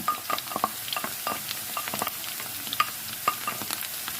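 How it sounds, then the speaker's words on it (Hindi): Potatoes and onions frying together in a pan for aloo bhujia, with quiet sizzling and repeated light scrapes and clinks of stirring, no voices. "प्याज को भी साथ ही फ्राई करेंगे।"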